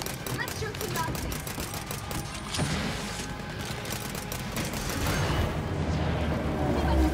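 Rapid bursts of gunfire shooting Nazis in Wolfenstein: Youngblood, a dense run of sharp cracks and clatter under game noise, with a voice speaking over it.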